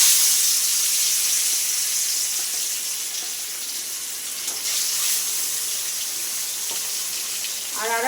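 Fish being added to hot oil in a kadai, for a spicy loita fish curry, give a steady, loud hiss and sizzle that fills the whole clip, with a brief clatter near the end and no talking.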